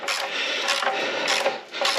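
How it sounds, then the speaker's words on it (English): Ratchet and socket backing a 10mm bolt off a carburetor, a steady dry clicking rasp with a few brief pulses of louder ratcheting, close by and alone. "I got my ratchet here. Now I can get up in here and take this other 10mm off."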